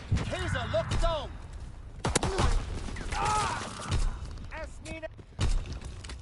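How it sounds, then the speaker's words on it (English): In Call of Duty WWII, sharp pistol shots and other gunfire crack amid battlefield noise, with several loud bursts spread across the clip alongside radio-like game announcements. "I had a quick reach for my pistol and I just eliminated him."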